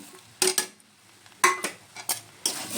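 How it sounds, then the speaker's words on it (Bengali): A spoon stirs peanuts and peas into cauliflower curry in a metal pot, producing several sharp scraping clatters in irregular bursts separated by quiet pauses. "এখন আমি এই বাদাম আর এই সে মটরশুঁটিগুলো সব এর সাথে মিশিয়ে নেব"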